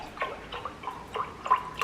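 Oat milk pours from a carton in short, uneven glugs and splashes, a light liquid dribble close by with no talking.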